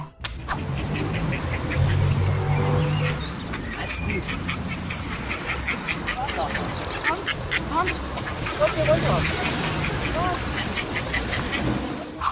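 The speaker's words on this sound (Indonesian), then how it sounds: "Induk bebek ini meminta bantuan seseorang agar ia dan anak-anaknya bisa menyeberang jalan dan akhirnya bisa kembali ke hutan." A mother duck and her ducklings quack repeatedly beside a road, sharp overlapping calls continuing throughout while car engines rumble past and some voices are also heard.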